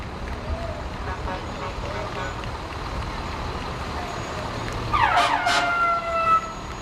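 A fire engine siren wails briefly over an outdoor parade crowd murmur, rising in a short sweeping burst near the end before fading.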